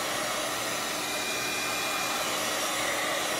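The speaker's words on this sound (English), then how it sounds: "I'm just gonna hit it with the heat gun once more." A heat gun blows steadily over a wet acrylic paint pour, a constant close hissing roar of air that stays even throughout without pause or talk.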